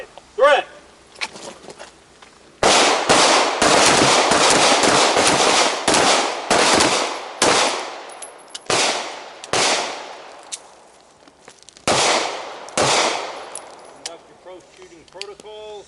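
Pistol shots fired two at a time during a cognitive-loading shooting drill, loud, sharp cracks in quick pairs and short bursts with brief pauses and echoing tails.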